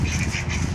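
Ducks quack in a steady, busy chorus outdoors, moderately loud and continuous across the moment with no talk over them.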